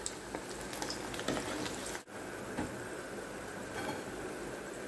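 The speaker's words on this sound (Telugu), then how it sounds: "వీటిని లైట్ గోల్డెన్ కలర్ వచ్చేంత వరకు మనం ఫ్రై చేసుకోవాలి." Chana dal masala vada fritters deep-frying in hot oil, a steady dense sizzle and bubbling that runs throughout with a brief drop near the middle, no voices.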